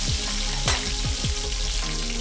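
Green chilies and crushed garlic fry in hot oil in a pan for tomato gravy, giving a loud, constant close sizzle with a few brief clinks and no talk.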